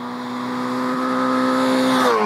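A 2020 Honda Fireblade CBR1000RR-R superbike engine revs hard, its harmonic tone climbing steadily in pitch and loudness, then dipping briefly at the end as it shifts.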